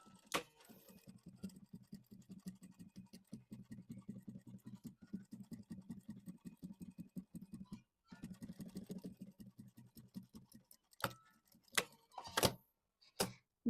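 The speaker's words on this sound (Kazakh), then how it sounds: "Енді дәл солай келесі жағынан тігеміз." Sewing machine stitching a bar tack on a corset, a steady run of rapid needle strokes for several seconds, a short pause, another burst, then a few separate clunks and clicks near the end; no talking.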